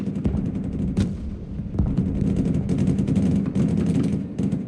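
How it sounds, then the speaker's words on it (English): Rumbling artillery fire in the video game Broken Arrow, a steady dense barrage with repeated booms and crackling impacts, loud and continuous throughout with no talk. "it looks like that artillery is doing a real good number on them"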